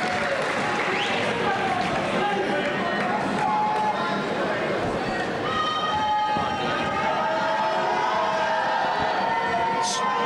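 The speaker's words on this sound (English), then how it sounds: "the Cambridge crowd trying to make a lot of noise" A Cambridge Rindge & Latin home crowd roars and cheers at a 1998 high school boys basketball game, a loud continuous wash of voices filling the gym, with a commentator talking over it.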